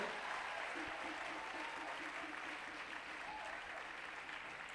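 A church congregation breaks into steady applause to acclaim God, a dense wash of many hands clapping close and evenly for the whole stretch with no voices over it.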